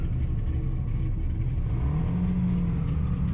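A drift car engine idles with a steady low rumble, then revs with a rising whine, close and continuous throughout at a drift event.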